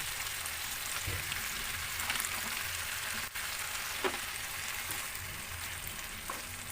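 Soy sauce sizzles in a frying pan while adobong sitaw cooks, a soft, steady crackling hiss broken by occasional stirring clinks and scrapes, with no talking.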